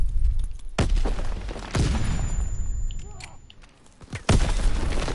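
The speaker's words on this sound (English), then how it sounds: "Grenade out." A grenade blast in the WWII shooter Endless Shipment 1944 booms loudly amid a war zone, with several sharp detonations and scattered gunfire before a final heavy explosion near the end.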